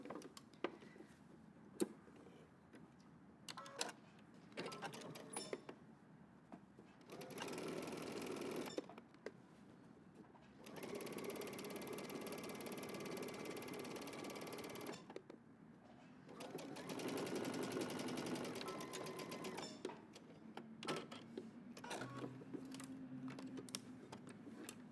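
A sewing machine stitches in short bursts while backstitching a Simplicity 8830 garment, with quieter gaps of clicks and fabric handling in between.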